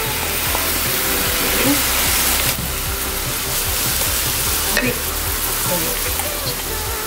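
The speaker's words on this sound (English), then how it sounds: "So I'm going to add the fresh coconut here into" Fresh grated coconut frying in a hot wok for a Malaysian dish, giving a steady, dense sizzling hiss that runs unbroken throughout, close and fairly loud.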